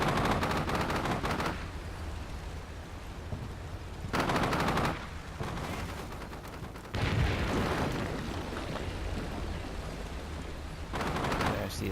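Bursts of machine gun fire crackle in the video game Combat Mission: Shock Force 2, several long rattling volleys separated by quieter battlefield ambience, fairly distant and moderately loud.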